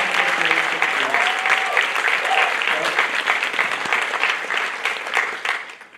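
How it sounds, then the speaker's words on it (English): An audience at a student celebration gives a warm round of applause for teachers, dense steady clapping with some voices, fading out at the end. "can we give a please warm round of applause for all those teachers who helped our students"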